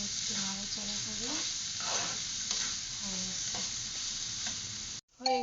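Fried potatoes with bottle gourd peels and chopped coriander leaves are stirred in a pan over a continuous close hiss and sizzle, with a faint voice murmuring underneath before an abrupt cutoff at the end.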